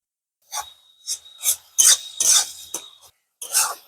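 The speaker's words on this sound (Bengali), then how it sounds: "টক দই এবার ভালোভাবে আমি ফেটিয়ে নেব" Sour yogurt is whisked in a bowl, giving a series of short scraping, rasping strokes in irregular bursts, close and clear, with no talking.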